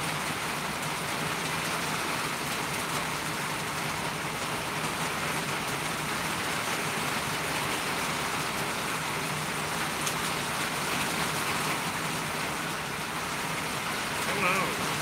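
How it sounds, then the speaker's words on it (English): Heavy rain drums steadily on a tin roof, a dense, even hiss and patter that fills the whole span without letting up, with no voices heard over it. "I know that tin roof and the rain is really loud"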